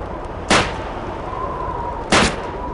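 Two separate gunshots in Call of Duty 2, sharp and loud, about one and a half seconds apart, each a short blast with a quick decay over a steady background hum.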